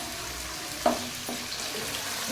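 Chicken deep frying in a pan keeps up a steady close sizzle, with a brief scrape of stirring partway through.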